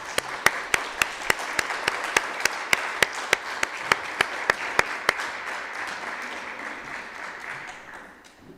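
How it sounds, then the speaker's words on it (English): Audience clapping at a public speaking competition final, dense and steady, with a sharp, rhythmic clap close by punctuating it about every fifth of a second for five seconds before the crowd noise fades out. "Round of applause."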